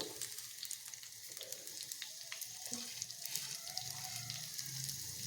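Two thickly sliced onions sizzling in about two spoons of oil for egg curry, a faint, steady close crackle with light stirring scrapes and no speech.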